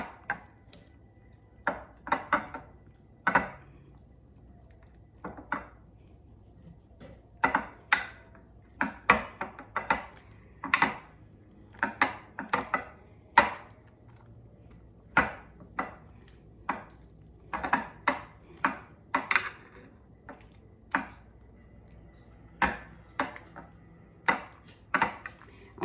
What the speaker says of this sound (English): My potato masher, and I'm going to come in here and I'm going to mash these